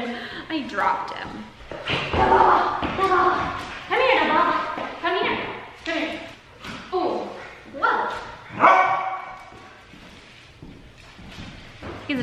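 A small dog yips and whimpers in short bursts while someone talks over it, her voice dominating most of the clip.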